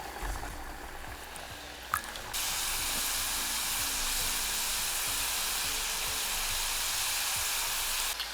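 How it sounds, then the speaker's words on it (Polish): Faworki, Polish fried pastries, sizzle in hot fat with a steady, close crackling hiss, briefly broken by a small clatter before the frying grows louder and settles into an even roar. "A gotowe wyciągamy na talerz wyłożony ręcznikiem papierowym i smażymy kolejną porcję."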